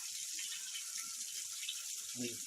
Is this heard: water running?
yes